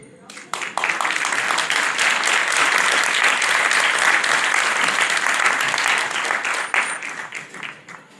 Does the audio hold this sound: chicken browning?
no